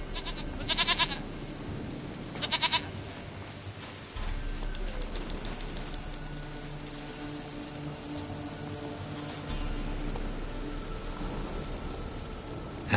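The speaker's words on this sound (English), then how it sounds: "Goat of mine, dearest, sweetest goat." A goat in The Witcher 3: Wild Hunt bleats twice in short, nasal bursts close by, followed by quiet outdoor ambience in the game world.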